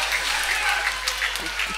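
Crowd applauding a KA handball win over HK in the KA-heimilið arena, a steady indoor clatter of clapping with voices mixed in, moderately loud and continuous.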